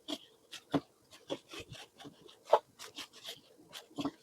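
A spoon stirs jaggery syrup into a thick mixture in a series of soft, uneven scraping and rubbing strokes, close up and fairly quiet, with no talking.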